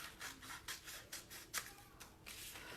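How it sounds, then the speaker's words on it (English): Scissors cutting cardstock for a small 4 by 4 lidded box: a soft, close series of papery snips and rubs, faint and unaccompanied. "We're gonna cut all the way up to the horizontal score line again."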